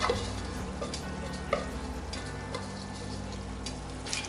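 Sugar syrup with orange and lime zest is stirred in a pan on the stove, giving a soft continuous bubbling hiss with faint scraping taps scattered throughout.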